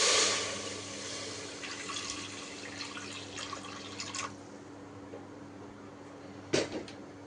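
Water runs and splashes steadily into a metal pressure cooker for several seconds, then trails off, with a brief clatter near the end.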